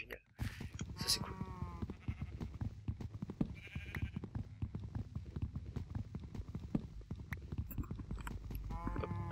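Minecraft sheep let out a few nasal bleats, one near the start and another near the end, over steady clip-clop footsteps, with a voice talking at times.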